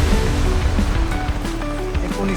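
Floodwater pours over a village bridge during heavy July rains in Sangurdi, a loud continuous rushing roar with a deep low rumble that holds steady from start to finish.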